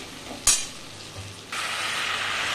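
Potatoes and spices fry in a pan, giving a soft, steady sizzle. A sharp clink of a utensil comes early on, and the frying grows louder and brighter toward the end.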